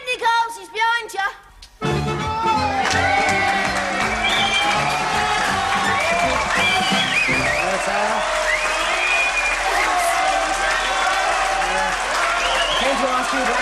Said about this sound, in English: How about that for applause, eh?